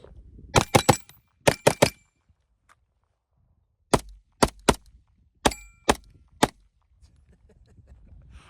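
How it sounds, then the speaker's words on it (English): A handgun fitted with a CMMG .22 conversion kit fires sharp, crisp shots in quick bursts of two and three, separated by short pauses, with a roughly three-second gap midway. "See if I can maybe not miss all of my last 3 rounds of my handgun"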